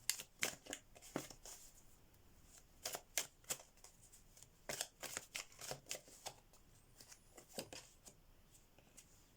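Tarot message cards are shuffled by hand in close, crisp bursts of riffling and flicking, coming in irregular clusters with quiet pauses between them and no talk over them.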